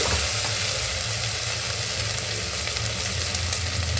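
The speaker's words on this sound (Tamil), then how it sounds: "வெங்காயம் நல்லா வதங்குது" Onions sizzle steadily in a hot pan with ginger-garlic paste, a continuous loud frying hiss with no voices.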